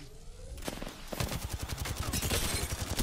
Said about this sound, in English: I am taking fire.